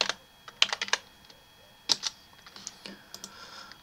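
Keys clatter on a computer keyboard while a file name is typed, a close series of crisp irregular clicks in short bursts with pauses, fading to lighter taps toward the end.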